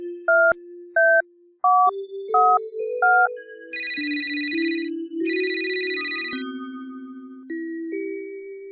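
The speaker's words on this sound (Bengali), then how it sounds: "দাঁড়াও, এখনই ফোন করছি।" Cartoon-style phone dialing: five short, clean keypad beeps in quick succession, then two longer bright ringing bursts and a lower sliding tone fading out, all crisp and isolated.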